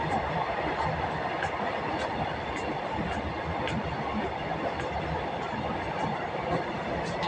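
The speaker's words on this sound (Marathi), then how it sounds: "मालगाडी चालली आहे बघ" A freight train passes through a railway station with a continuous loud rumble and rattle that holds steady from start to finish.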